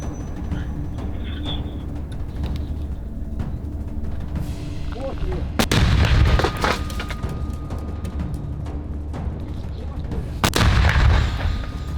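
Two heavy mortar rounds fire from a frontline position, each a sharp, loud, booming blast spaced several seconds apart over a steady outdoor rumble.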